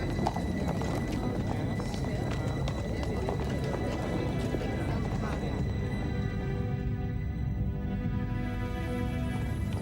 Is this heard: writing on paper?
no